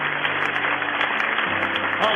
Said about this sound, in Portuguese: Um demorado aplauso ao Deus das excelências